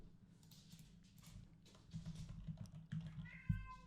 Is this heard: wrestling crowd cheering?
no